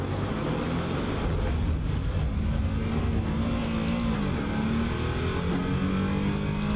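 A race car in Assetto Corsa Evo at full throttle clawing out of a gravel trap, engine droning loud and steady with a rising pitch, close and continuous, no talk over it.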